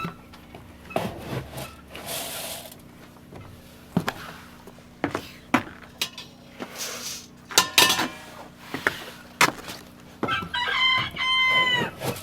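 Chickens on a farm at chore time cluck and squawk in scattered bursts, with several close rooster crows rising toward the end, amid occasional rustling and clatter in the coop.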